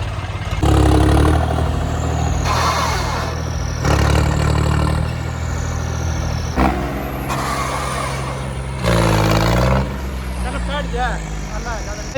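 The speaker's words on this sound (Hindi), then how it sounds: "ट्रैक्टर टायर स्लिप कर रहे" A tractor engine revs in repeated loud surges during a stunt on wet ground, with tyres slipping, and voices talking and shouting nearby throughout.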